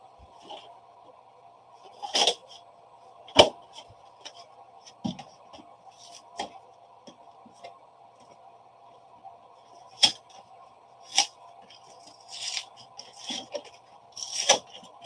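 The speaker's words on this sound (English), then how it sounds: "So I'm just going to cut this one in there." A knife cuts ice cream sandwiches to fit them into a box, giving a handful of sharp, separate crunching and scraping strokes over a quiet kitchen background with a low steady hum.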